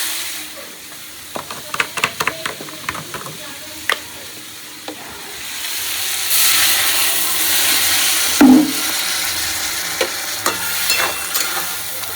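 Vegetables with turmeric, green chilli and salt frying in a pan and being stirred, a steady sizzle rising partway through, with scattered sharp clicks and scrapes of the spoon against the pan.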